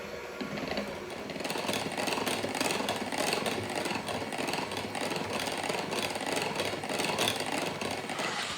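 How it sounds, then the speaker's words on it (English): An electric mixer runs continuously, whipping a thickening mixture with sugar and vanilla, a steady buzzing whir at moderate level with a slight wobble in its tone and no speech. "And now we're just gonna keep whipping, and this is gonna thicken up nicely as we do."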